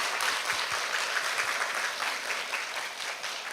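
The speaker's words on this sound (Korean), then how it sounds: "박수 부탁드립니다." A studio audience at a church broadcast claps for pastors' wives in a full, even burst of many hands that keeps going without a break.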